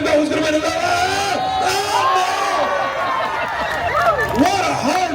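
Spectators at the Sydney Royal Easter Show cheer and whoop for racers in a steady, dense roar of crowd voices, with rising shouts and calls over continuous chatter throughout.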